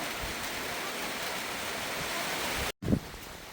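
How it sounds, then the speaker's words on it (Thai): Steady, dense rain hisses down around a field hut among the rice paddies, unbroken for most of the stretch before a brief dropout and a small bump near the end. "ฝนก็ตกแห้งมาอีกแล้ว"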